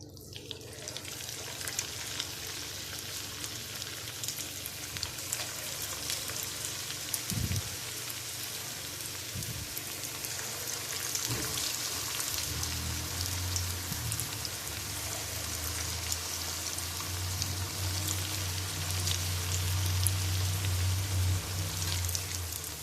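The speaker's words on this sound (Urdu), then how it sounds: "اب ہم ان کو گولڈن براؤن ہونے تک فرائی کریں گے" Spinach pakoras deep-frying in hot oil give a steady, dense crackle and hiss like rain, continuous throughout with a few low thumps and a low hum rising toward the end.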